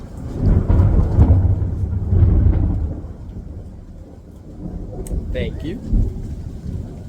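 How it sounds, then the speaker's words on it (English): Thunder rumbles through a storm while rain falls outside a garage, loud low rolls in the first few seconds easing to a steadier background wash, with a brief spoken phrase. "storming right now."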